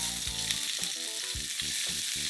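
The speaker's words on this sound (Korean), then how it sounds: "콩나물을 살짝 볶겠습니다." Bean sprouts are stir-fried in a pan over a weak flame, with a steady close sizzle under repeated rhythmic clatters as the pan is tossed and stirred.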